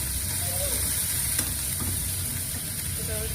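Pieces of fish sizzling in hot oil for a Bengali fish curry, a steady, dense frying hiss that runs throughout at close range, with no talk over it.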